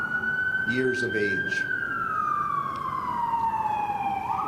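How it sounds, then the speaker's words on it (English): An emergency vehicle's siren wails steadily and loudly as it passes outside a sheriff's press briefing in Monterey Park, its pitch slowly sliding downward while an official keeps speaking. "the siren's going by"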